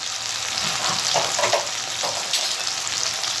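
Ginger paste and spices frying in oil for a tilapia fish curry, a continuous bright sizzle with occasional stirring scrapes, close and steady.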